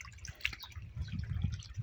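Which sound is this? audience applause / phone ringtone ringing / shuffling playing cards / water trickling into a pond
water trickling into a pond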